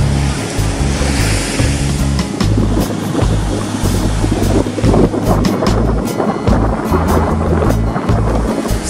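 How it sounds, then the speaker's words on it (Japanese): Ocean waves with a good swell break as shore break on a Sea of Japan beach under offshore wind, a loud continuous surf wash mixed with heavy wind buffeting on the microphone. "いい感じのうねりが入りますが、インサイドからショアブレイクですね。"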